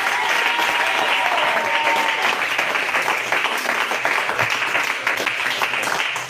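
A church congregation applauds loudly during a prophetic prayer service, a dense, sustained burst of clapping that fills the whole moment with no pause.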